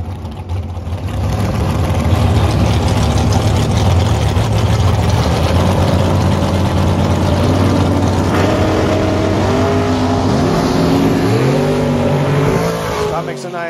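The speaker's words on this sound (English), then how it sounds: "Launch off the line, so does Kyle." Fast gas bracket drag racing at Maui Raceway Park: loud engines rumble at the line, then launch and roar away, with revs climbing through the gears as an announcer talks over them.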